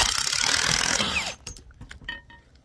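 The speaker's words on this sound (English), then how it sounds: "We're going to put our impact wrench on there. This might get loud for a second." An impact wrench drives a 9/16 socket to tighten the bolt on a piercing connector, a loud continuous rattling hammering burst for over a second, then stopping, followed by scattered faint clicks and handling sounds.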